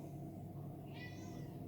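A pet cat meows in a drawn-out, rising call midway through, fairly close, over a steady low hum of room noise with no talking.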